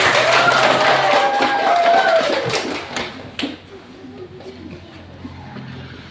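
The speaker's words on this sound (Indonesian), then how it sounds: "Mari kita sambut dengan tepuk tangan." A classroom of students claps to welcome group 2 before their presentation, a brief burst of fairly loud clapping that fades out after a few seconds, followed by quieter room sound and a voice beginning to speak.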